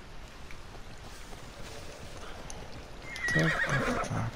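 Horse from Assassin's Creed Odyssey whinnies loudly near the end, mixed with hoof clip-clop over a steady outdoor game ambience.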